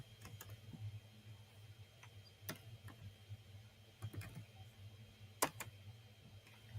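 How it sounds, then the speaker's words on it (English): Faint, sparse keystrokes on a computer keyboard click in scattered singles and short bursts over a quiet room hum. "Let me slow down when I'm typing."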